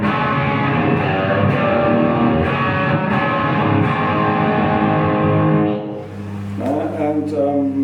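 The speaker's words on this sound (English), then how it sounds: "I call Brat. So that's a German slang word for heavy distortion, and it's my rhythm sound." A heavily distorted electric guitar played through a Marshall JVM amp's drive channel plays a thick, sustained rhythm tone, loud and close, with chords ringing and shifting near the end.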